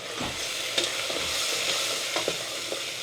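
Red chili masala with brown sugar frying on a low gas flame while a spoon stirs it, a steady close sizzle with soft scraping strokes against the pan and no talking.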